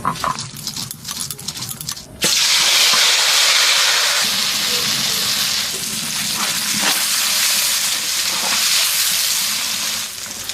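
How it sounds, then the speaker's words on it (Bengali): Eggs dropped into hot mustard oil in a kadai, a loud, steady sizzle that bursts in suddenly and holds as a close, hissing wash, with a few stirring clinks. "আমি ডিমগুলো ভেজে নেবো"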